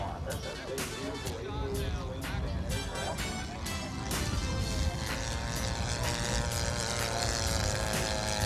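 A Globe Swift light airplane makes a close, slow flyby with gear and flaps down, its propeller drone steady and loud throughout, with a voice speaking over it.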